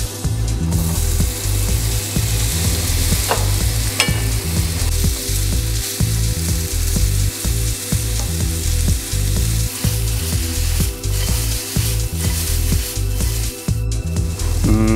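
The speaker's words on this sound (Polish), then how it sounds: "Tak oto pokrojone warzywa wrzucam na patelnię i krótko smażę" Cut vegetables sizzle steadily in a hot frying pan, with a continuous frying crackle and repeated low knocks and scrapes from stirring throughout.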